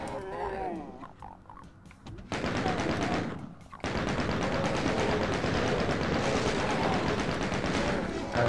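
A chain gun fires in DOOM, a long stretch of continuous rapid shots after a short burst and a pause, loud and steady, with a voice briefly at the start.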